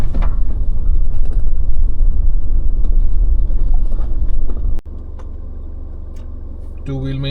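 A car descends a steep hill in second gear, its engine a loud, low rumbling drone close by that drops to a steadier, quieter hum partway through.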